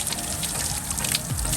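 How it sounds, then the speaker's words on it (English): Fresh water runs and splashes while aloe vera is rinsed out of hair, a close, continuous gushing and patter with no voices. "you can just wash it out with some nice fresh water and rinse it out of your hair"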